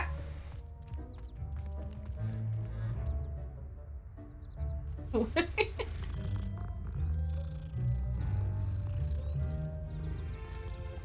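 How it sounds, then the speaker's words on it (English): A cat meows a few times in the middle of a Hogwarts Legacy scene, set against a low ambient game backdrop. "Cat!"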